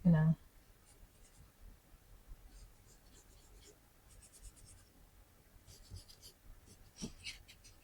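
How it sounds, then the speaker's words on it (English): A graphite pencil scratches and abrades sketchbook paper in faint, close, intermittent strokes that come in short bursts, while someone speaks softly between the strokes. "I'm starting to abrade the surface of the paper."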